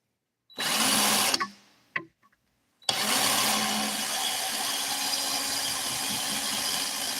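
A power drill whirs loudly in a short burst, stops briefly, then starts again and runs steadily, close and harsh.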